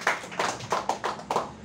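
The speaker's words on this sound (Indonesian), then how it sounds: "Tepuk tangan dong buat anaknya." A handful of people clap briefly, about six loose bursts of hand claps in quick succession, close and fairly loud, with no voices over them.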